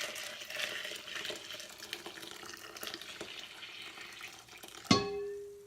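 Water saved from rinsing is poured steadily into a container in a home kitchen, a continuous close trickle that ends with a sharp clink and a fading ring.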